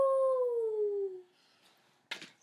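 A single wolf howl in a forest setting: one long, clear, falling tone that fades after about a second, followed by a short burst of noise.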